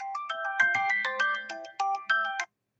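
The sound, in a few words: phone medicine alarm going off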